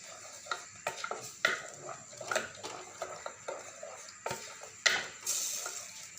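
Black chickpea curry with spice masala being stirred and fried in a pan, with soft scraping and light clinks of a spoon at an irregular pace, close and fairly quiet, with no talking.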